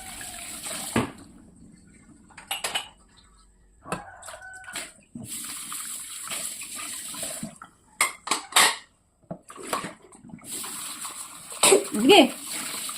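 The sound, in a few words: child washing dishes with water in a sink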